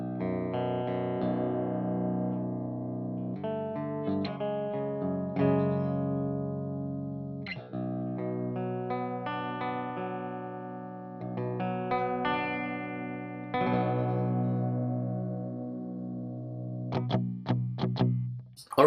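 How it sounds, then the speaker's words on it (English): Clean electric guitar tuned to drop B with the overdrive pedal switched off, playing ringing chords and single-note runs with a slight shimmer, loud and unaccompanied, ending in a few sharp plucked notes. "this guitar is tuned in drop B, and this is how the guitar sounds when the pedal is off"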